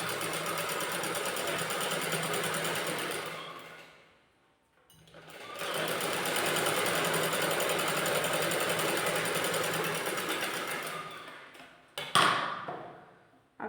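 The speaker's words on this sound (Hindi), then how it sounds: "उसके बाद हम स्लिप लेकर के ऊपर से सिलाई करेंगे कव सिलाई।" A sewing machine stitches a net fabric blouse in long steady runs, a close, loud whirring buzz that stops briefly midway, restarts for another sustained stretch, then winds down with a few clicks at the end.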